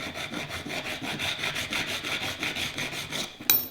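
A steel file rasps in steady, rhythmic strokes across a metal scraper blade, burnishing the edge with a repeated close scraping sound, then one sharp metallic scrape right at the end.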